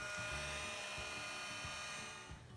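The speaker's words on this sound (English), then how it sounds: "you could use a hair dryer or even a heat gun if you have one" Hair dryer or heat gun blowing to dry freshly painted rocks, a steady faint high-pitched whine with airy rush, continuous and nearby, tapering slightly at the end.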